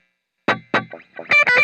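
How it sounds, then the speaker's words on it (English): Electric guitar played through a digital delay at a high mix on a Line 6 HX Stomp, a few distorted plucked notes with audible repeats, then a brighter ringing chord to close, loud and close. "Sometimes I may want to use a delay with a high mix and kind of play off the repeats"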